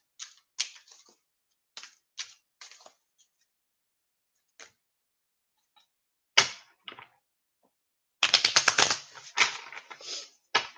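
Tarot cards handled and shuffled, bursts of crisp flicking and riffling with short taps at first, then a brief pause, then a denser, louder run of rapid card snaps close to the mic.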